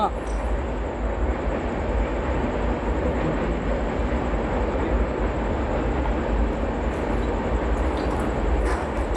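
A train runs along the rails, a loud, steady and continuous close rumble with a faint clatter that holds evenly throughout.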